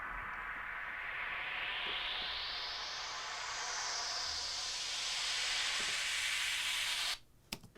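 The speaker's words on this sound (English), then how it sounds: "Like a nice 8-bar long opening up piece Yeah. of white noise is just like really useful." A long wash of white noise rises and sweeps upward in brightness, building steadily before cutting off abruptly near the end.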